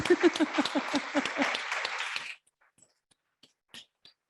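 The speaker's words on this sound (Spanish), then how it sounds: "un aplauso primero para vosotros" A burst of audience applause in a conference hall, with many hands clapping together for about two seconds, then cutting off into near silence with a few faint sounds.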